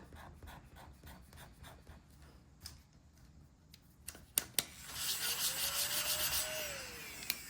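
A sticker being scratched off a printed paper savings chart: a few light taps and scrapes, then several seconds of steady, close scratchy rubbing.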